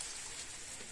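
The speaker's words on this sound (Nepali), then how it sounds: "अहिले बिराउँछ जेठा मासको पानी" Summer rain falls steadily in rural midwest Nepal as an even, hissing patter heard close by, with no voices over it.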